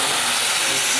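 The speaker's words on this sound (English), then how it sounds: "You can have a cold touch steamer." Steam wand on a Sanremo YOU single-group espresso machine gives a loud, steady, close hiss that fills the whole brief moment with no break.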